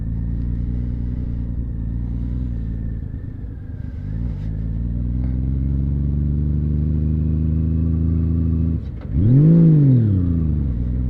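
Honda Valkyrie motorcycle engine at low riding speed, a steady deep rumble with slight pitch shifts and a brief louder rev near the end, close and continuous with no talking.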